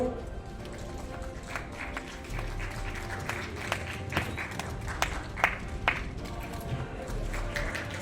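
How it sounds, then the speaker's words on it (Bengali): An audience claps at a Sharad Tilottama Samman award ceremony in Sarala Memorial Hall, Kolkata, with moderate, uneven applause from a mid-sized crowd that swells and lingers for several seconds, heard from a distance. "একটু হাততালি হোক"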